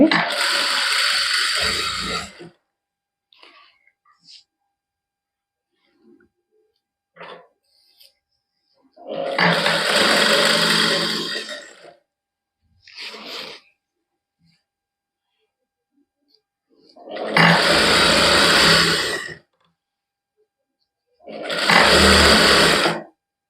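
A sewing machine stitching gota lace onto a dupatta, running in four separate bursts of a couple of seconds each with quiet gaps and faint handling clicks between.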